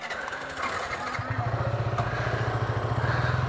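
A motorcycle engine turns over and catches beneath a Gariahat bridge, settling into a fast, even throbbing idle that stays loud and close for the rest of the moment.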